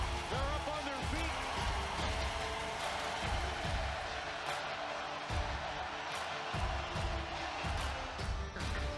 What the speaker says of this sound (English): Listen to this crowd. They're up on their feet.